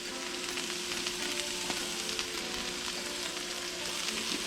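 Chicken seasoned with paprika fries in a pan, a dense, steady sizzle with close crackle and no voices.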